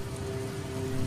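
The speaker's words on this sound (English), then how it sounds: "In the coming days, the rains fall in an almost continuous deluge." Heavy rain pours down in a near-continuous deluge across open plains, a steady, close, even hiss of drops with no voices and no break in intensity.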